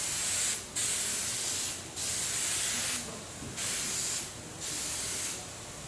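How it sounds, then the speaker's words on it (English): Contact adhesive sprays from an aerosol can in five sharp hissing bursts, each about half a second to a second long with short pauses between, loud and close with no talk. "now that both parts have been sprayed with the contact adhesive"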